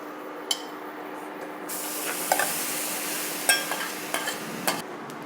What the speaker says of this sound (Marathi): तर हा गाभा आपण थोडासा परतून घेऊयात